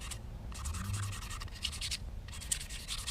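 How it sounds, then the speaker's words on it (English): Sandpaper roughs up the surface of a turkey call, producing close, scratchy rubbing strokes in several bursts separated by brief pauses. "So you take some sandpaper or something like that, or like a Brillo pad, kind of rough it up"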